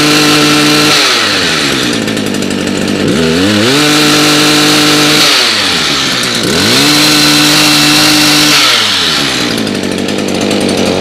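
Small gasoline two-stroke lawn care engine, primed and choked after five months stored without stabilizer, fires and runs loud and close, rising and falling through several revving surges over steady buzzing idle.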